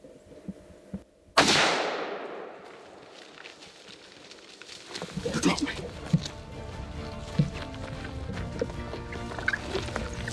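A single sharp, loud rifle shot rings out close during a hunt, then decays, followed by rustling, faint birds and some talking.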